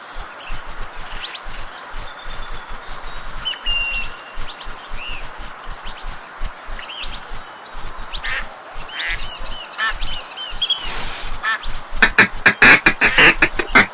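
Ducks in the Duck Dynasty hunting game quack repeatedly, a rapid stream of raspy calls over a constant outdoor ambience that grows louder and denser toward the end as a flock comes in.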